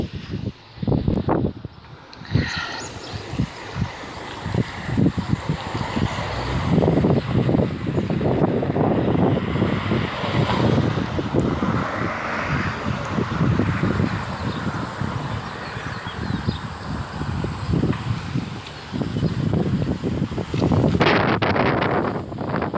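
Heavy wind buffeting an outdoor microphone at night, a steady loud rumble with gusting bursts running nearly the whole time, no talking.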